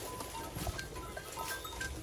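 Goats raised on a farm bleat faintly in a few short calls against a steady background hum, with no one speaking.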